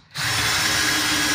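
Power drill driving a 2-inch screw down into a floor joist, starting abruptly and then holding a steady, loud, high motor whine close by, with no voices.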